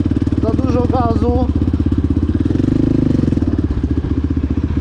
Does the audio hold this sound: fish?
no